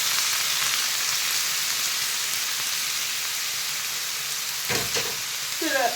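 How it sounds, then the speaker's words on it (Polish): Chanterelle mushrooms fry in butter in a pan with a steady, even sizzle that continues throughout, broken by a brief clatter of stirring near the end. "I smażymy. Nie ma nic, masełko."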